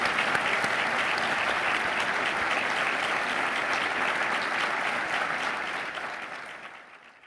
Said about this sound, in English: Let's show our visitors a nice round of applause.